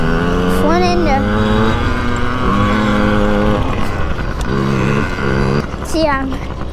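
A motocross dirt bike engine revving and buzzing steadily up close as a child rides over sand jumps, the pitch rising and dropping with each jump, while the young rider talks throughout.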